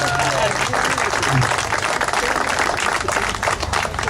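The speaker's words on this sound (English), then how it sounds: "You can give that a round of applause." Audience clapping at an outdoor park re-dedication ceremony, a continuous, fairly loud wash of applause with some crowd murmur and a few voices underneath.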